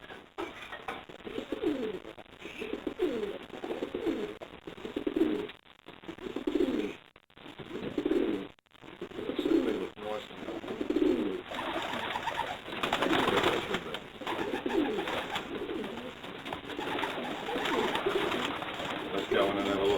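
Racing pigeons coo steadily in a loft, a dense chorus of low rolling calls repeating throughout, with occasional faint voices and handling noises in the background.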